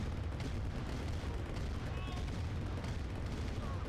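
Tank cannon fire in Command & Conquer: Red Alert Remastered during a free-for-all tournament match, a dense, steady roar of low booms and battle noise with no clear pauses, and no one speaking.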